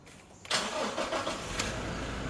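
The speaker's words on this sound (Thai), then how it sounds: "ขึ้นไปบนรถแล้วสตาร์ทเครื่องดูแล้วกัน" A 2018 Toyota Revo 2.4E Plus automatic pickup starts up, heard from outside the truck: a quiet pause, then a sudden crank catching into a steady idle that continues to the end.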